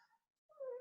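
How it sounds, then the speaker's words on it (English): A house cat gives a single short meow, faint and close, rising out of near silence after a brief earlier sound. "my cat is meowing"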